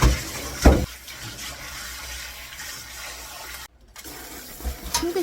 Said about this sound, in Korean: 쪽파도 깨끗하게 씻어서 한 주먹만 준비해 놓겠습니다